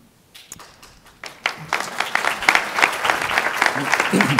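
Applause swells from scattered claps into a steady, dense burst of clapping from a crowd, growing louder and continuing to the end.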